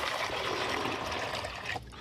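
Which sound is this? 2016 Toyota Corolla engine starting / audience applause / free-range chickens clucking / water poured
water poured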